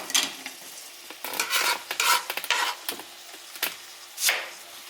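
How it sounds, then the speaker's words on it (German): Ground meat and mushrooms sizzling in a pan for gözleme while a utensil stirs them in several scraping passes. Steady frying crackle runs underneath, close and fairly quiet, with no talking. "dann müssen wir ab und zu mal umrühren, nicht vergessen"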